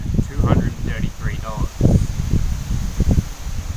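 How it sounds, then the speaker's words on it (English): Steady wind buffets the microphone outdoors beside a Nissan GQ Patrol 4WD with a low rumble while a person talks over it close by. "Sorry for the wind, I don't know if you can hear me through that"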